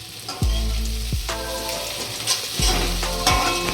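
Paneer chilli stir-frying in a pan over a full gas flame, a loud continuous sizzle broken by several heavy tossing or scraping strokes of the spatula against the pan.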